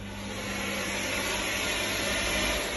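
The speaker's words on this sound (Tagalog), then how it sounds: "i-steam mo muna yung alikabok, tsaka mo siya i-vacuum" A Polti Unico steam vacuum cleaner vacuums dust with a steady, loud whooshing motor roar and low hum, running continuously without talk.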